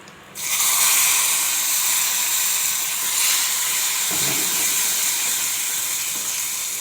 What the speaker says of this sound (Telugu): ఇదండి తాలింపు బాగా వేగిపోయింది